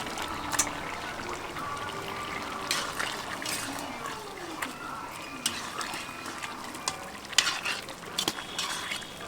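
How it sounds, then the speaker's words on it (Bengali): Fish being poured into a simmering snake gourd curry, with soft stirring and wet sizzling plus a few faint clinks of a utensil, steady and close with no talk. "এবার মাছটা আমি ঢেলে দেবো।"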